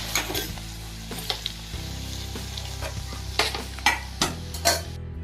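Chopped garlic frying in hot peanut oil for a tempering, a steady close sizzle with repeated clinks and scrapes of stirring against the pan.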